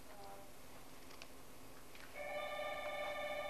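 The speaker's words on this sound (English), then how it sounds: "Is that my phone?" A telephone rings in an indoor setting, its steady electronic tone starting partway through and sounding fairly close and loud above faint room noise.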